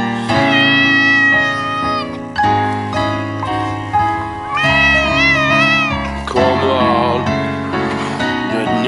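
A Maine Coon cat meows and chatters in long, varied, talkative calls that rise and fall, loud and close, with a steady low drone underneath and no talk.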